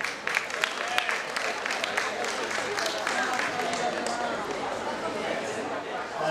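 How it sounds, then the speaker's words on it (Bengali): Audience applause fills an auditorium at an evening cultural program in Dhaka, a dense, steady wash of clapping lasting several seconds, with a voice speaking over it at the start. "জোরে তালি দি"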